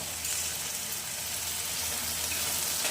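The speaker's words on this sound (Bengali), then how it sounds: "এটা একটু ভেজে নিই" Food frying in a pan in a home kitchen, a steady broadband sizzle that stays even and loud throughout with no talking.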